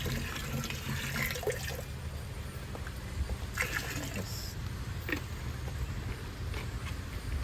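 About half a litre of liquid bacterial biofertilizer is poured for cardamom plants, giving a soft, continuous splashing and trickling under faint background noise.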